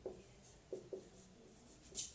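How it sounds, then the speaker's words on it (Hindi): A black pen writes on paper in a quiet room, a few soft scratchy strokes and taps spaced out over a short stretch, faint and close, ending in a brief louder scrape. "कथन को काले पेन से लिखना है"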